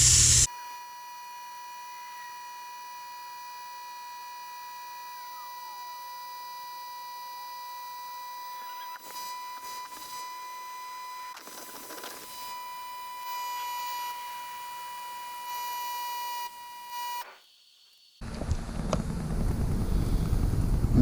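An EWK pneumatic 6.5 liter vacuum fluid extractor pump drawing oil, running as a steady hiss with a tonal whine that drops in pitch partway through, then a burst of louder, rougher air-sucking noise near the end; no talking.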